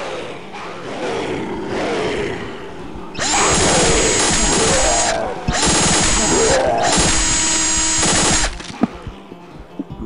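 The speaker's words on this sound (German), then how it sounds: "ich hab in den Brustkorb gebohrt" In the Postal 2 mod Eternal Damnation, a power drill bores into a zombie's chest. It roars loudly in three long bursts with brief gaps, a grinding, ratcheting whine over a rumbling game background.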